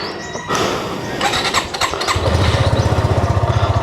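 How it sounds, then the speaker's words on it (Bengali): A motorcycle is cold-started in the morning: a brief cranking whir, then the engine catches into a steady, close, loud idle with a regular pulsing thump that continues to the end. "অ্যান্ড কোল্ড স্টার্ট দিয়ে নিই বাইকটাকে"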